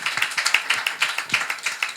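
A small audience claps for a doctor who is a guest on a studio talk program, the claps fairly close, quick and distinct with a loose, slightly uneven rhythm and no talking.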